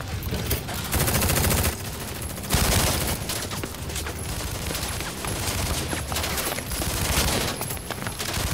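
Gunfire in a Tekken 7 story mode cutscene, dense rapid bursts of shots and heavy automatic fire filling the whole stretch, loud and continuous with brief lulls, no talking.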